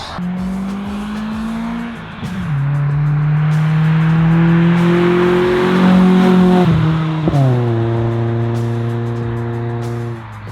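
A loud Acura RSX base model with an HKS Hi-Power aftermarket exhaust revs through several gear shifts as it accelerates past nearby, its throaty exhaust rising and dropping in pitch.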